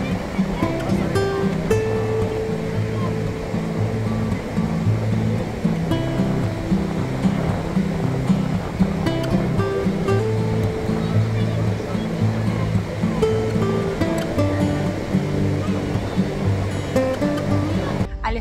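Sea waves wash and surge in a continuous, fairly loud rush with a low rumble, while a voice talks over the water the whole time.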